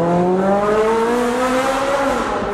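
Ferrari 458 GT3 race car engine screams loudly and continuously up through the revs as it accelerates, a dense, close, rising howl with no voices over it.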